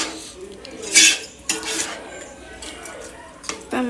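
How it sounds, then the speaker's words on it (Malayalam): Brinjal is stirred in a cooking pan, with a utensil scraping and clinking against the metal in a few short bursts, close and fairly loud, with a faint voice in the background. "വഴുതനങ്ങ ഇട്ടിട്ടൊന്ന് മിക്സ് ചെയ്യാം."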